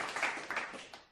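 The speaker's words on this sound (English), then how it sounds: "Round of applause" A short, faint spatter of clapping from a small group, fading quickly within about a second, with no talk over it.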